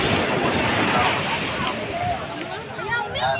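Sea waves wash onto Arthunkal beach in a steady, loud roar of surf, with wind buffeting the microphone throughout the short stretch.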